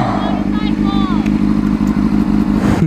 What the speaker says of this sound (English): Motorcycle. A motorcycle.